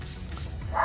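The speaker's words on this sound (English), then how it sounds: "Sorry for that dog barking." A dog barks faintly in the distance outdoors during a DIY stone masonry repair, a short yipping burst rising near the end over low background rumble.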